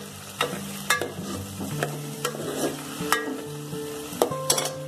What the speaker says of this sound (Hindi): तो हल्की आंच में हम फ्राई होने देंगे जब तक।